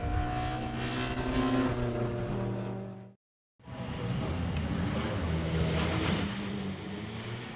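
Ford Focus Cup race cars at Snetterton circuit roll onto the formation lap, a dense, continuous engine drone from several cars with a brief cut to silence midway, at moderate distance.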